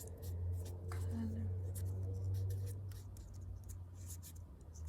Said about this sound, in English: Well, let me just write that out.